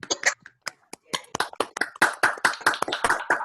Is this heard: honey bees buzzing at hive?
no